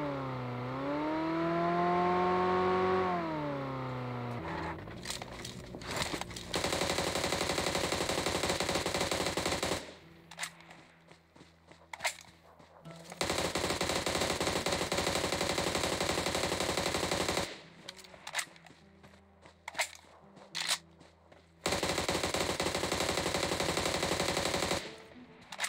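Sustained automatic gunfire in the mobile battle-royale game PUBG Mobile, long loud bursts of rapid shots with brief gaps, following a stretch of whirring, rising vehicle-like engine tone at the start.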